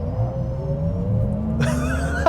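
A 2025 Cadillac Escalade IQ electric SUV launches hard, its artificial drive sound rising steadily in pitch over a loud, continuous road and motor rush, with a brighter burst of noise near the end and no talking.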